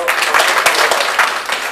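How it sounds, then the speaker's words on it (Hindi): Audience clapping together at a voter-ship training camp in Rishikesh, Uttarakhand, a dense, steady burst of applause from a gathered crowd lasting just under two seconds. "चलो हम आपके लिए एडवांस में ताली बजाते हैं"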